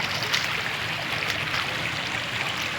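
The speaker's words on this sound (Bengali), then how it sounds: "পুরো জল ঢুকছে।" Steady rush of water flowing in near a bridge, a continuous close broadband gush with no talking.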